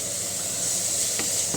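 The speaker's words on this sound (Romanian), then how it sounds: "Am folosit puțin ulei de floarea soarelui, călim morcovul" Grated carrot fries in sunflower oil in a pan, giving a steady, loud hiss and sizzle throughout with one brief stir partway through.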